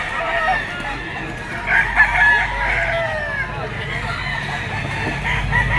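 A white gold straight comb rooster at a market pet stall crows repeatedly at moderate distance, its calls blending with other fowl clucking and a busy crowd murmuring in the background.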